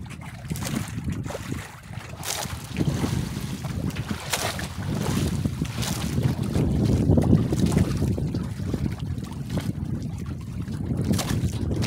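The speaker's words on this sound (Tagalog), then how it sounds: "Ay, lakas pa rin ng hangin mga kaidol." Strong wind roars continuously across the microphone at sea, with low rumbling gusts and water noise rising and falling for the whole stretch.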